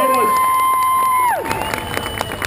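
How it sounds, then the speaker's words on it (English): A crowd cheers and applauds at a 2012 GP fun-run event for an Olympic gold medalist. A sustained, falling electronic tone gives way halfway through to a loud, continuous wash of clapping and cheers. "What about one more round of applause for our Olympic gold"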